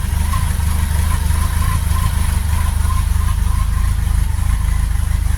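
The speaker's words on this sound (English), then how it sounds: "And that engine is perfectly quiet." A Reliant car engine, freshly fitted with a rebuilt distributor, idles cold with a little choke and no throttle, a loud, steady low rumble with an even, rapid pulse and no other sounds.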